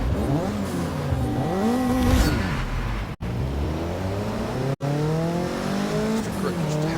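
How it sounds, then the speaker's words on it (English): Mazda MX-5 race car in Forza 6, its engine revving up and down through gear changes in rising and falling whines, with tyre squeal underneath, loud and continuous. "Race number 2 with my Mazda MX-5"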